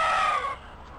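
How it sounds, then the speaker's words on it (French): A chicken in a garden lets out a brief, loud squawking call that quickly fades, leaving quiet outdoor background. "il y a une poule noire"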